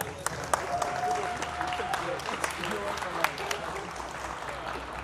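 A small audience gives light, scattered applause for a tablet showcase on a livestream. Sparse claps sound fairly faint under ongoing talk.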